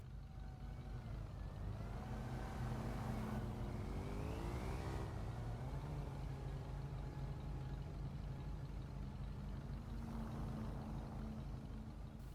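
A car cruises in the video game GTA V, its steady engine hum running throughout with rising and falling revs as it accelerates and shifts, loud and continuous with no talking.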